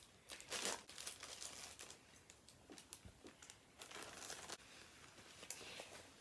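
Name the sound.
plastic package bag being opened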